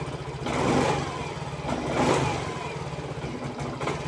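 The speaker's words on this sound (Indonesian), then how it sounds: "Kontak on. Nah, ini starter mudah, tapi digas respon tidak bisa ya." Honda Mio 125 fuel-injected scooter engine running nearby, with throttle blips that rise in two or three hesitant, flat surges over a rough steady idle.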